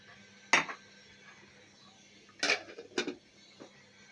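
A pot of rice and fish head with hot water being stirred, a few separate metallic clanks and scrapes of a spoon against the pot, close up over quiet background.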